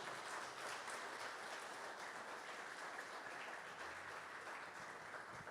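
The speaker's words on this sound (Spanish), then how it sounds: "Denle un aplauso al Señor en esta mañana" Church congregation applauding during a Sunday morning service, a dense, steady wash of many hands clapping at even loudness throughout with no break.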